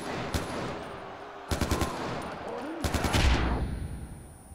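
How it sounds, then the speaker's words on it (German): Gunfire bursts and a grenade blast in the Far Cry 4 video game, rapid rattling volleys coming in several clusters over a dense noisy background, with a voice briefly audible. "das war eine Granate, glaube ich"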